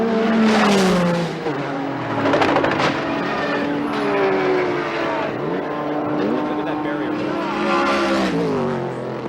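A crash during an American Le Mans Series endurance race at Mosport, with race car engines screaming and revving at high pitch as cars pass and the note falls away, loud and continuous, with commentary underneath.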